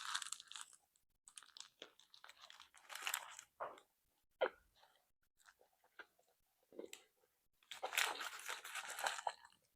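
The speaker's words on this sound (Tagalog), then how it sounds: "ngayon ko na lang ulit to titikman" Biting and chewing pure beef longganisa sausage, close-up crunchy bites and wet chewing in irregular bursts separated by quiet pauses, with no talking.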